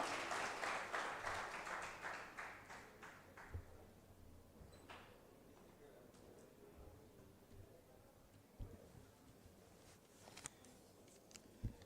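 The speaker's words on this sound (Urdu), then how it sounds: "کلیپ ہونی چاہیے ہمارے مہمان کے لیے" An audience at a ceremony unveiling a super league in Gilgit-Baltistan applauds a guest with a burst of clapping that fades out after a few seconds, followed by quiet room noise and scattered knocks.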